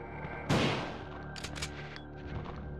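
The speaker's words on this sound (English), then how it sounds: "I can use this shotgun" A single loud shotgun blast from the video game Resident Evil 2, a sharp close boom with a decaying tail, followed by fainter game sound effects.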